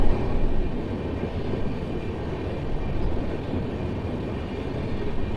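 Steady low rumble of an Indian Railways WDG diesel locomotive running on a line under electrification work, a continuous broadband drone with no speech.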